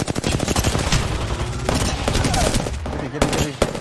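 Gunfire in the video game Apex Legends, a loud, close barrage of overlapping shots and impacts with dense bursts, brief gaps, and faint voices mixed in beneath the shooting.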